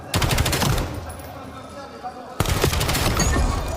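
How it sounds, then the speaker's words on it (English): Rapid gunfire from a Black Ops 7 esports match at an EWC 2026 final, loud bursts of shots with a brief lull midway, mixed with crowd and caster noise. "now he gets to show off his pistol shot"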